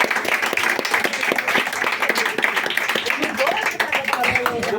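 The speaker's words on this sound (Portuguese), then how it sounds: "E as palmas que louvam ao Senhor" A church congregation claps in praise during a vigil service, brisk rhythmic applause close by, with a voice speaking over it.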